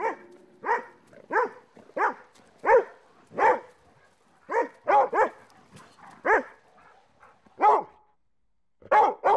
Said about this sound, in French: La question de savoir si les chiens ont développé l'aboiement pour interagir avec nous divise les scientifiques.